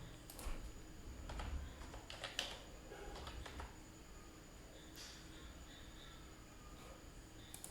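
Computer keyboard typing, with soft, scattered key clicks in small irregular clusters and pauses, faint against quiet room noise.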